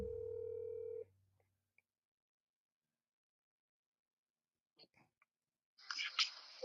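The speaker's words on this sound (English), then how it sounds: "Let's call Pat real quick" Telephone dial tone humming steadily for about a second before cutting off, followed by near silence, a few faint clicks and then a voice answering the call.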